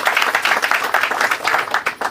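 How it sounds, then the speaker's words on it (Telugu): An audience claps to congratulate a couple, a dense burst of many hands beating in a fast, steady rhythm, loud and close, lasting a couple of seconds with no talk over it. "వీరికి గట్టిగా చప్పట్లతో అభినందనలు తెలియజేద్దాం"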